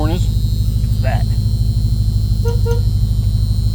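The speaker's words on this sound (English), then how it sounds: "you know where the horn is? It's that." A 1974 Chrysler Imperial's horn toots in short bursts over the car's steady idling rumble, with a voice talking nearby.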